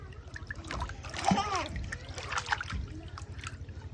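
A baby splashes in bath water during an outdoor rooftop bath, making irregular close splashes and dribbles. A voice and an adult talking run over the splashing.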